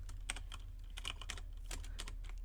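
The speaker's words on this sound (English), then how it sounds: "Do you guys hear the little like clicks that the Atari computer makes every time you type something?" Clicks from an Atari computer keyboard during typing: quiet, irregular keystrokes in short runs over a steady low electrical hum.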